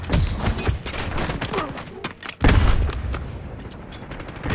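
Frag grenades and gunfire in a Call of Duty game, a dense run of sharp blasts and cracks with a short near-silent gap before a heavy boom, followed by more scattered bursts.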